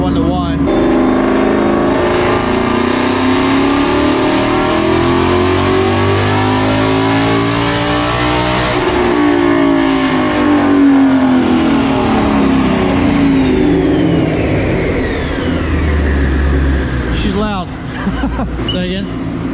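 A twin-turbo 2019 Mustang GT with a 10-speed gearbox, held in 6th gear, revs hard toward 7,500 RPM. The loud engine note climbs steadily, peaks, then falls away, with faint voices in the background.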